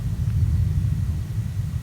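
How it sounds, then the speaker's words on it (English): A low, continuous rumble of thunder rolls on throughout, deep and steady, from a storm near a forest camp in New South Wales, Australia, with no voices present. "thunderstorms come back."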